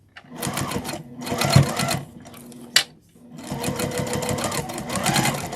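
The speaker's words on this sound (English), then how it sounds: "I'm going to do the same thing and just stitch right along the edge" A sewing machine top-stitches along the edge of a fabric wristlet strap, running in two long, close, rapid whirring bursts separated by a short pause and a brief click.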